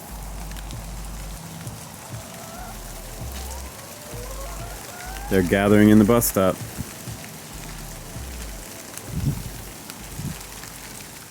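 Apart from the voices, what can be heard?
rain falling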